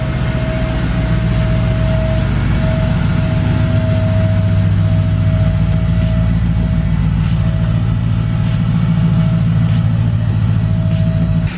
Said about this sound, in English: About to do a little cold start.